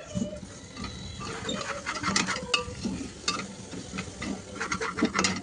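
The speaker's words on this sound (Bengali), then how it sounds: "এই আমাদের মশলা ভাজা চলছে" Homemade garam masala spices stirred and fried in a pan, soft scraping and clinking of the spoon against the pan over a faint sizzle, close and fairly quiet with no talk.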